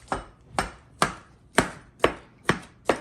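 A knife chopping peaches on a cutting board for peach salsa, seven evenly spaced crisp chops, close and fairly quiet with nothing else around them.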